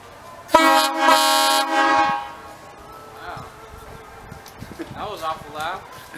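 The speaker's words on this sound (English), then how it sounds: "Homemade horns." A homemade PVC train horn fed by a garage air compressor gives one loud, harmonically rich blast of about a second and a half. It cuts off sharply and is followed by quieter room noise and someone talking.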